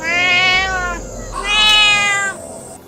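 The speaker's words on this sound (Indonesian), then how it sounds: "Ternyata hanya kucing." A cat gives two loud, clear, drawn-out meows close by, separated by a short pause.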